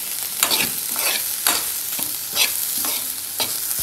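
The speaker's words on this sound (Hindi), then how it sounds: "आज मैंने माँ राजमा की दाल बनाई है, और उसका तड़का देखिए तैयार कर रही हूँ।" A spoon stirs a sizzling tadka for rajma dal in hot oil, with a steady frying hiss broken by about seven regular scraping strokes, close and loud, with no talk.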